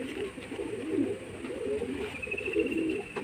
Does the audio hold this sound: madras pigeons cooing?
yes